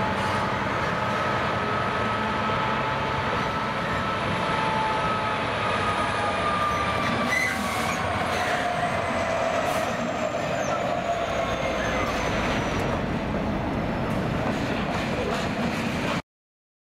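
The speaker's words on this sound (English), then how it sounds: "Empty coal hoppers leave Aberthaw reception sidings." A train of empty coal hoppers rolls past steadily leaving Aberthaw reception sidings in South Wales, wheels rumbling and squealing faintly on the rails, with occasional clanks, continuous for the whole stretch.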